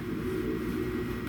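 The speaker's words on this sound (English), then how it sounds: "You can hear my furnace in the background there." A basement furnace runs steadily in the background, a constant low rumbling hum with no breaks or voices across the short stretch.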